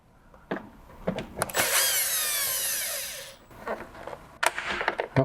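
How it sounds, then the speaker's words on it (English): A power drill backs screws out of a window frame during a single-hung or double-hung window coil replacement, with a close, loud whirring spin lasting about two seconds, framed by clicks and handling knocks. "Remove the screws."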